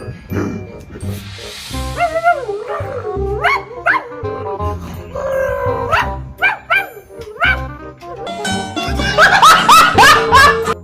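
A dog vocalises in a string of whining, yipping barks and drawn-out whimpers, close and loud, with people talking and laughing around it.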